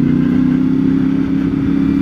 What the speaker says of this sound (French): Le moteur nerveux.